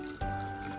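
Water is poured from a mug onto 200 grams of jaggery for cooking, a brief liquid splash and trickle starting abruptly against a faint background hum.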